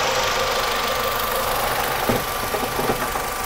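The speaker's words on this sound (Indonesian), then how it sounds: "Ini mesin nyala ya, mesinnya masih hidup." Engine of a 2005 Honda Civic VTiS manual, heard idling in the engine bay with the hood open: a steady, moderately loud mechanical hum and hiss with faint ticking, heard alone without talk.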